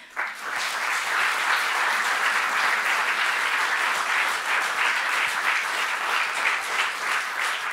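A concert crowd at a tribute concert applauding after a piece, with dense, even clapping that swells quickly and holds steady and loud throughout without pause.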